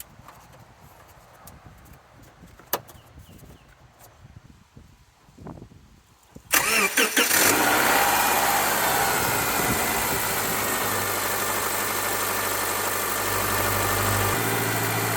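A 2007 Subaru Outback engine fitted with new NGK spark plugs cranks and fires at about six seconds after quiet clicks, then settles into a steady, close idle.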